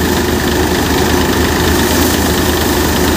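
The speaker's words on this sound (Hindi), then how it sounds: "वहाँ पर अभी भी काम चल रहा है थ्रेसर मशीन से" A paddy thresher machine's engine runs steadily and loudly close by during village rice threshing, a continuous dense mechanical drone with knocking vibration and no pauses.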